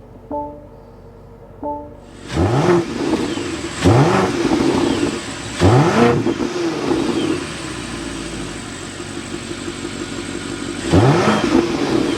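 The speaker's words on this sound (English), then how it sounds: "this is a twin turbo V8. We need to go inside and start it up so you can hear that exhaust note." A 2024 BMW X7 M60i with a twin-turbo V8 starts up with a couple of chimes, then the engine bursts alive and is revved several times in strong, close bursts, settling into a throaty idle between blips.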